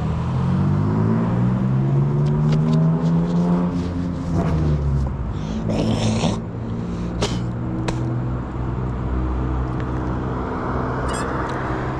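A small truck with a loud aftermarket muffler rumbles nearby, its exhaust note rising and falling as it revs and passes, with scattered clicks and knocks heard over the steady engine drone.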